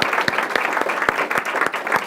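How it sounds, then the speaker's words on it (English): An audience at a talk about leading film sets claps steadily, a dense, even patter of many hands with sharper individual claps standing out, no voices over it. "Let's give a round of applause"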